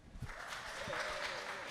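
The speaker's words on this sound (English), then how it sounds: "Y'all clap it up, clap it up." An audience claps and cheers at the opening of an art talk show, a steady wash of applause that holds at moderate volume for the whole moment, with no voices breaking through.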